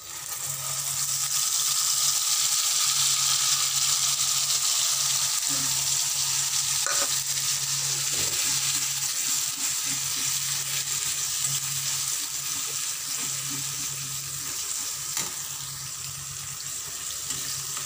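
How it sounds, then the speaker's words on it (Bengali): Poppy seed paste fries in hot oil, a broad, even sizzle that holds steady throughout, with a low hum underneath and an occasional faint knock, and no one speaking. "এরপর দিয়ে দিলাম পোস্ত বাটাটা"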